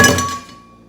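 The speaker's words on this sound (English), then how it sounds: "That's me about to break another glass." A sharp, loud clink of glass rings out close by and then decays into a fading ringing tone, a single impact heard alone.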